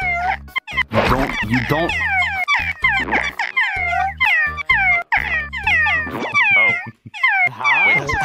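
A voice imitates a cat's meow over and over, high wavering mews alternating with bursts of talk, close and fairly loud.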